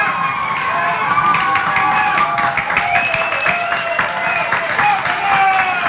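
Sacred Heart Buff football fans cheer after a touchdown at a high school game, a sustained crowd roar with whistles, whoops and scattered clapping, under a commentator's talk.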